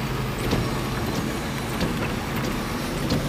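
A car rolls along a road through a battlefield cemetery, giving a steady broadband engine and tyre rumble throughout with no distinct events and no one talking.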